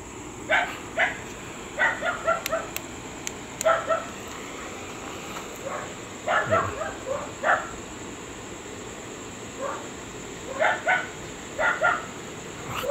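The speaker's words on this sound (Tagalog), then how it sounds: "Yan ang background ng aking video, aso na maingay." A dog barks noisily in the background outdoors, repeated bursts of two or three barks separated by short gaps, moderately distant over a low hum of ambient noise.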